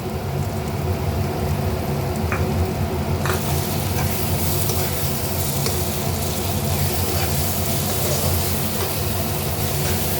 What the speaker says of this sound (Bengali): টমেটো পেঁয়াজটা ফ্রাই হয়ে গেছে এবার মশলাটা ঢেলে দেবো লঙ্কা আদা আর রসুন বাটা